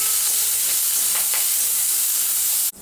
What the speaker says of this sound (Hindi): अब तेल में हम करी पत्ता डालेंगे, मिर्ची डालेंगे, धनिया, इसको अच्छा क्रिस्पी होने तक भूनेंगे।